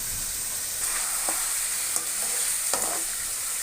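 Mutton for karahi frying in a pan, with salt added: a steady close sizzle with occasional light scrapes and taps of a spoon, no voices.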